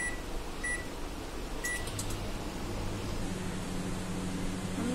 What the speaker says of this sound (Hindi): माइक्रोवेव को आपने कन्वेक्शन पर 180 पर 15 मिनट्स के लिए गर्म करने के लिए रखना है